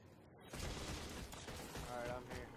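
Rapid bursts of gunfire from Halo 4 King of the Hill multiplayer on the Exile map, a dense fusillade that fills the clip at low overall level with a voice talking underneath.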